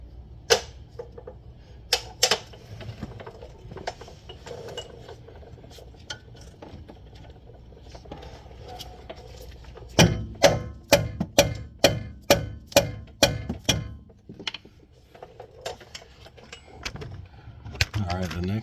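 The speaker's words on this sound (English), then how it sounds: "that noise you just heard was me trying to push that end link out" Pushing the end link out of a 2011 Lexus LS460 front lower control arm with an extension makes scattered metallic clinks and taps, then a quick run of sharp clanks midway. The sounds are close, under faint workshop background noise.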